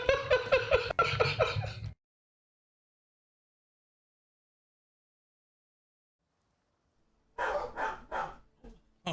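Dogs bark in a rapid series of loud, close barks, then the sound cuts to silence before more barking and voices resume at the end.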